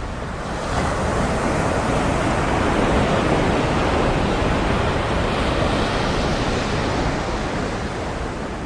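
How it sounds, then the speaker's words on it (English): Crashing ocean surf played through a sound installation around the Place d'Etoile traffic circle in Paris, a loud, dense, continuous roar of breaking waves that swells slightly and fades near the end. "The sounds of the crashing waves also spilled out onto the large boulevard surrounding Place d'Etoile."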